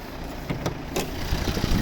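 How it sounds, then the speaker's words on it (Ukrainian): A 2012 Volvo V50's two-litre five-cylinder diesel engine idling nearby, a low continuous rumble with a few brief louder bursts layered over it. "П'ятициліндровий вольвовський дизельний двигун, двухлітровий."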